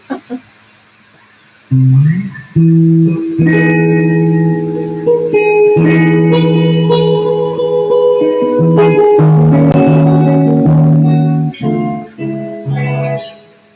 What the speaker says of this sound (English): Didn't realize the reverb is up pretty high.